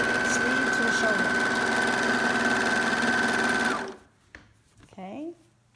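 A sewing machine runs steadily for about four seconds as a sleeve is stitched to the shoulder of a biblical costume, then stops abruptly, leaving quiet room noise and a brief voice.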